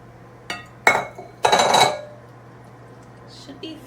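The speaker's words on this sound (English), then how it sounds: "now we're just gonna start adding in our wet ingredients to our dry ingredients. Mixing that all up." A utensil clinks and scrapes against a bowl a few times in short bursts while wet and dry scone ingredients are stirred together, close and clear in a quiet kitchen, with a faint hum underneath.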